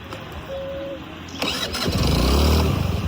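A stalled scooter engine cranks and sputters, catching briefly into a rough rumble that struggles and fades, with steady background noise throughout.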